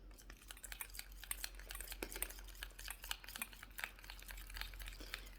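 Stirring an Argan oil and rose sugar lip scrub in a small container, a fast, continuous scraping and ticking of a utensil against gritty sugar, close and fairly quiet, with no talking.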